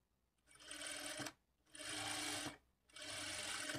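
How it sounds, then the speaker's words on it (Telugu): Close, steady whirring of a sewing machine stitching a blouse lining, running in three sustained bursts separated by short pauses, with no talk over it. "ఇలా స్టిచ్ చేసుకున్న తర్వాత ఇప్పుడు మరలా 1/4 ఇంచ్ మార్జిన్తో ఇంకొక 2 స్టిచ్చెస్ వేసుకోవాలి."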